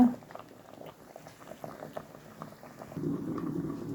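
Cassava boiling in a pot, a soft low bubbling and gentle liquid patter that continues quietly and thickens slightly toward the end, no voices.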